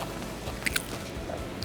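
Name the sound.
crunch of biting into a migas taco with crispy tortilla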